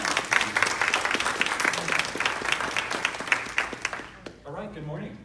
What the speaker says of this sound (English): So please give Brian Cummings a very warm applause and welcome as he's here.